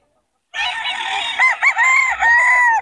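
A full-grown gamecock stag of golden cross breeding crows loudly and close, a single drawn-out call that rises, wavers through several throaty breaks and holds a long strained final note, with no voices over it.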